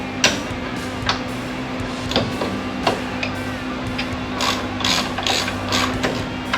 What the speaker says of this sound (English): So we're gonna see if I can tighten these bolts up.